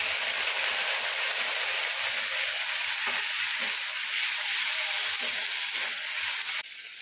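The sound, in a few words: sautéing spice paste with green chillies in a pan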